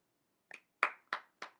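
A person clapping their hands, four sharp claps, one softer and three firmer, close and alone against silence.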